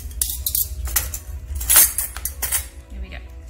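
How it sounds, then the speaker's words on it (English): Cutlery clinks and jangles as it is placed back into a kitchen drawer, with several close, bright metallic rattles in quick succession. "I'm going to put the other cutlery back"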